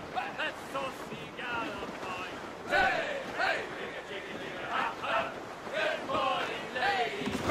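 A sailing ship at sea in the video game Assassin's Creed Rogue, with rushing waves and gusting wind forming a continuous wash, while shouted crew voices rise and fall over it.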